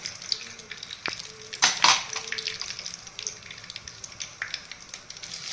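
Mustard seeds and cumin sizzle and crackle in hot oil for a traditional Konkan breakfast tempering, a steady fizzing hiss with scattered pops and one louder burst of spatter near the middle, with no voices.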